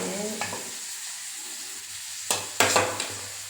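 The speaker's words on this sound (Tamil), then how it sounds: "சரியான நல்லா எல்லா சைடும் பிடிக்கிற மாதிரி கிளறணும்" Tomato rice is stirred while frying in a pan, with a soft steady sizzle under a few sharp scraping strokes of the spoon near the end.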